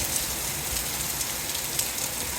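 A steady wash of hard rainfall from an intense rain and hailstorm, loud and even throughout, a broad continuous hiss with faint scattered patters and nobody speaking.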